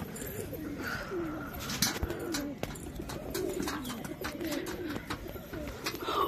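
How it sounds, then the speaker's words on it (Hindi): Domestic pigeons coo in a low, continuous murmur around a rooftop loft, with scattered wing flaps and soft scuffles from the flock settling nearby. "और ये अपने कबूतर भाई ये सब भी बैठ जाते तो मैं आपको दिखाता हूँ।"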